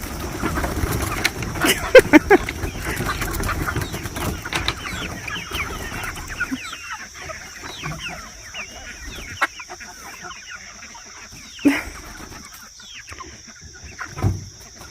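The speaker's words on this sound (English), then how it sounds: "now we're down here with the chickens, letting them out for the morning" Chickens cluck and squawk in scattered bursts close by, with a noisy busy stretch at first that thins out, plus a few sharp louder calls.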